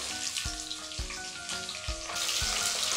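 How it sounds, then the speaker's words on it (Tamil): Chopped onions and green chillies sautéing in a pan for vegetable pulao, a soft steady sizzle broken by several dull rhythmic thuds of stirring, with a faint tonal hum in the background. "வெங்காயம் ஓரளவுக்கு வதக்கினா போதும்."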